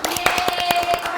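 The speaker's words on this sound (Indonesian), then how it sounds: "Tepuk tangan dulu buat Monica." Hands clap in a quick, regular rhythm at a podcast recording, a dozen or so close, crisp claps forming brief applause with no talking over them.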